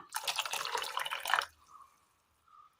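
Water in which dried gooseberries were soaked pours steadily into a pan for about a second and a half, then stops, leaving a few faint drips and a quiet trickle.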